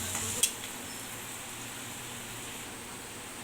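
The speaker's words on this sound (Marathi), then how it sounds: "आता यामध्ये प्रथम कढीपत्ता आणि यानंतर भरपूरचा चिरलेला कांदा टाकून परतवून घेऊया" Curry leaves and chopped onion sautéing in a pan produce a faint, steady sizzle. A small clink sounds near the start, then a soft, even frying hiss continues.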